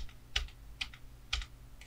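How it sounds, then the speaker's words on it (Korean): Ctrl+D keys pressed repeatedly on a computer keyboard while duplicating layers in After Effects: four distinct clicky keystrokes spaced about half a second apart, close and fairly quiet over faint room hum, with no talking. "Ctrl D 키 8번 누를게요."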